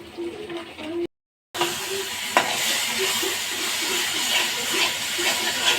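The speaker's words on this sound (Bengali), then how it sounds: "ভালো করে কষে নিচ্ছি" Spices with ground cumin sizzle steadily in hot oil while being sautéed for a fish curry, a constant frying hiss with light scraping stirs, broken by a brief gap near the start and a voice speaking underneath.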